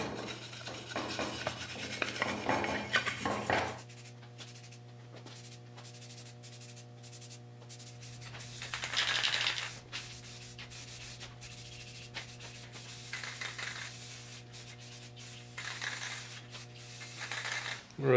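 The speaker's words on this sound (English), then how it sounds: "we're gonna hit it with some Scotch-Brite to give it a little bit of a rough finish" A Scotch-Brite pad scuffs a part from a 1966 Triumph Spitfire MK2: a long burst of abrasive rubbing, then several shorter scrubbing strokes at intervals over a steady low hum.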